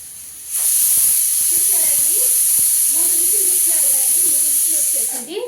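A pressure cooker of prawn curry vents steam in a loud, sustained hissing whistle lasting several seconds, with someone talking faintly underneath before the hiss cuts off.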